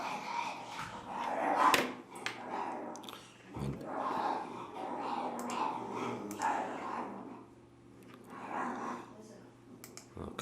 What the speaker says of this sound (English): my dogs are going a little bit crazy here